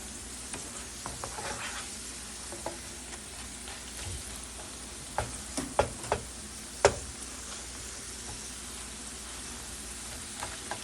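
Homemade french fries frying in hot oil, a soft, continuous bubbling sizzle with scattered sharper pops and crackles, several clustered near the middle, heard up close without talk.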